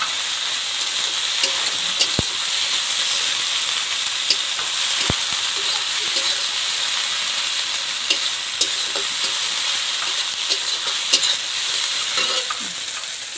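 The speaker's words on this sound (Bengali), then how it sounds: "মশলাগুলো বন্ধুরা যত ভালো ভাজবো তত ভালো" Spices fry in oil for a simple chicken curry, a loud, steady close sizzle with scattered spatula clicks and a couple of sharp knocks against the pan, no speech.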